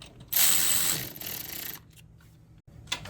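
Ratchet wrench clicking as it tightens the bolts of a Ford F-150 front wheel bearing and hub assembly, a close, loud burst of rapid pawl clicks followed by quieter intermittent ratcheting.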